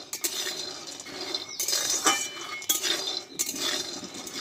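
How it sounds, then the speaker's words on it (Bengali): Peanuts dry-roasting in a pan over a low flame, stirred with a utensil that gives repeated metallic clinks and scrapes while the nuts rattle, close and fairly loud, with no talk. "দেখো এবার শুকনো খোলায় কিন্তু বাদামগুলো ভেজে নেব"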